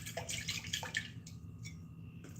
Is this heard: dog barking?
no